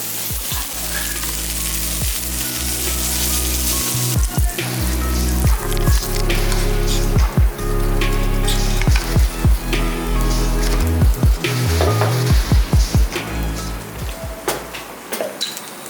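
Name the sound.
meat sizzling on a traditional Korean barbecue grill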